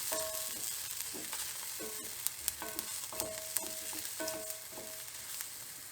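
Asparagus and cumin frying in a pan, stirred repeatedly so the spears and seeds don't char or burn; a steady sizzle is broken by rhythmic scraping strokes and small clicks of the utensil, heard close with no voices.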